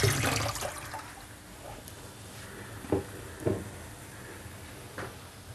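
Dahi vada batter is dropped into moderately hot oil and fries with a steady hiss and bubbling, a louder sizzle at the start settling into continuous crackle with occasional small pops.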